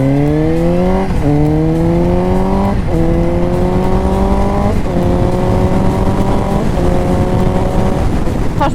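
A 2019 Suzuki GSX-S 750 motorcycle in A2-restricted form accelerates hard through several gears, its engine note climbing steadily and dropping at each shift, loud and close with no voices.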